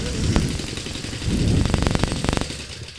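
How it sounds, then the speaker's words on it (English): Fox Condor mini bike engine idling at close range, a steady low rumble with faint sharp clicks and pops over a mid-section, no talking. "And it's idling."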